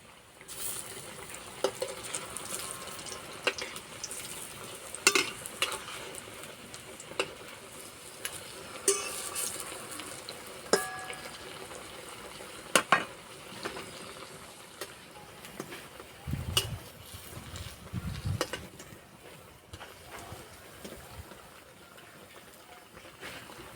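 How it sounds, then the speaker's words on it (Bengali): Pumpkin leaf fritters frying over low heat in a pan, a soft continuous sizzle broken by scattered ticks, pops and scraping of a utensil. "এক পিঠ ভাজা হয়ে গেছে উল্টে দেবো"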